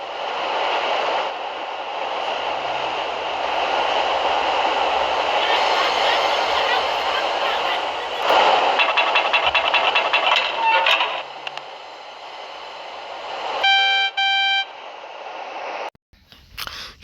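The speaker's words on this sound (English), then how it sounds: "The train slams the emergency brakes, and then it happens." A class 421 train's emergency brakes give a long, harsh metallic screech and grinding roar that builds and sustains, then breaks into rattles as it derails and cuts off abruptly.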